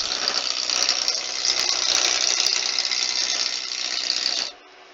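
Wood lathe running with a gouge cutting a spinning wooden coaster blank, a loud steady rasping whir held for about four and a half seconds before it cuts off and falls quiet.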